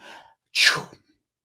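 A voice imitates a sneeze: a quick breathy inhale, then one sharp, close burst that trails off.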